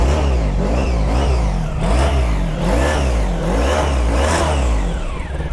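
Big motorcycle engine with about 71,900 miles revving repeatedly, loud and close, rising and falling roars in a steady cycle over a rumbling idle.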